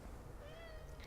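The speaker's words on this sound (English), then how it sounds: "It's our neighbour's cat." A cat gives a single short, clear meow over steady background noise, close by and with no talking.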